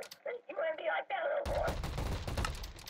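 Rapid video-game gunfire bursts out in a Minecraft GTA-style match, loud and dense, after a voice speaks briefly.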